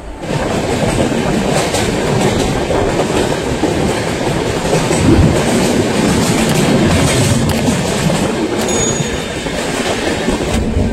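Darjeeling Mail express train running on the rails, a steady close rumble with continuous clickety-clack of wheels over joints and a brief faint squeal, no voices.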